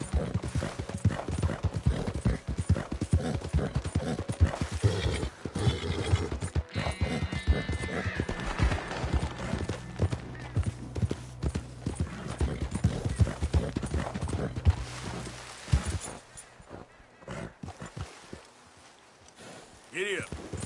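Steady horse hoofbeats pound along at a quick gallop in Red Dead Redemption 2, with a whinny partway through and game sounds and music underneath, the hooves fading near the end.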